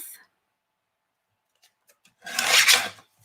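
A paper trimmer slices through card stock for a handmade card, giving one short rasping cut after a near-silent pause and a faint opening scrape.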